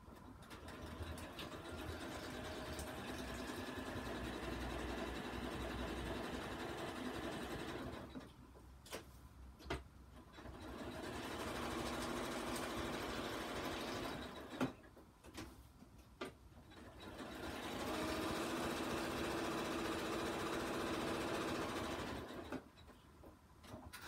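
A sewing machine zigzag-stitches around a playing card in steady rapid bursts, three runs of mechanical whirring separated by short pauses, close and fairly quiet with no talking.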